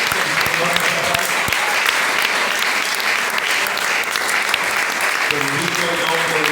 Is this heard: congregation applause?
yes